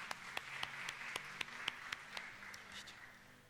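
A church congregation at a united Sunday worship service gives applause, faint and distant, with a few sharper claps standing out over a low steady patter that thins toward the end.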